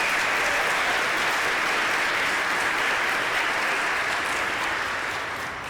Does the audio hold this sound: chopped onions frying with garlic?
no